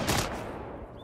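A quick burst of rapid gunfire crackles in the World War II strategy game Sudden Strike 4, loud at first and then fading into a rattling tail within a second.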